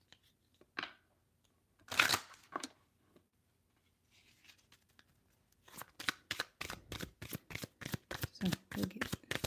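Tarot deck being shuffled close up, a few scattered card flicks and sweeps followed by a quick rhythmic run of riffling snaps, soft and intimate in an ASMR setting.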